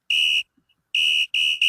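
Electronic buzzer marking the end of a timed 60-second segment during a fantasy draft show, a loud steady tone sounding in several bursts, one long blast, a gap, then three quick repeated blasts, no talk over it.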